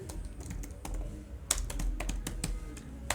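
Keys tapped on a computer keyboard at close range, a few irregular clicks and soft taps over a faint background hum.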